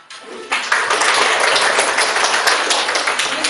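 A class applauds in a classroom during a lesson: after a quiet half second, many hands break into steady, close clapping that holds at an even level to the end, with a few sharper individual claps standing out.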